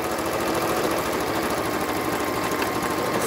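A sewing machine stitches reusable gift wrap fabric in a fast, steady mechanical buzz, close and continuous with no pauses.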